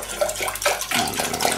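Water pours steadily into a pot for instant mashed potatoes, a continuous close splashing rush lasting under two seconds with no voices.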